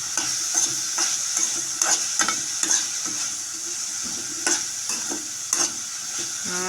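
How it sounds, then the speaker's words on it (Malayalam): Bitter gourd thoran frying in a pan with crushed garlic, steady sizzling under repeated close scraping stirs at an irregular rhythm. "അപ്പം ഇങ്ങനെ ഇളക്കി മൂടി വെക്കണം"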